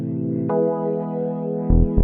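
Native Instruments Vintage Keys hip-hop pad layered with an organ holds a warm sustained chord, shifting at a couple of points with short low thumps near the end.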